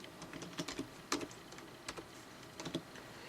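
Keys on a laptop keyboard are tapped out as a password, with a short run of sharp, close clicks in an irregular rhythm and brief pauses between strokes, heard alone.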